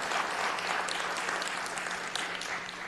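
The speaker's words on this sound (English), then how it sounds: "Another round of applause." Steady applause from a crowd at a city council meeting, many hands clapping continuously without pause at moderate volume, no voices on top.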